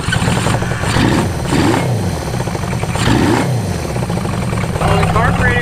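A 1973 Honda CB500 motorcycle engine revs up and down repeatedly during carburetor synchronizing, loud and close with a steady idle between rises.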